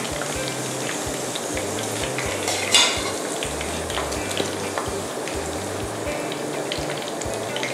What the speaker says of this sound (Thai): นี่ก็ช้อนขึ้นมาเสด็จน้ำมันให้หมดนะคะ